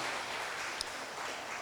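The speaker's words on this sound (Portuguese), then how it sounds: "levante suas mãos e dê um aplauso ao Senhor Jesus" A church congregation applauds during a worship meeting, a dense continuous patter of clapping filling the space at an even level throughout, with no talk over it.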